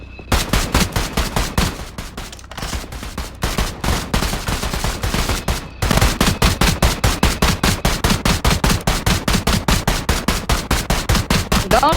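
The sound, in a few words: gunfire in a shooting video game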